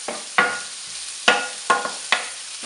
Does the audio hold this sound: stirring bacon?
yes